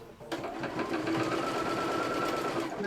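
A sewing machine stitches steadily along the edge of a piece of fabric, its rapid needle clatter starting abruptly and running continuously up close, with no talk over it.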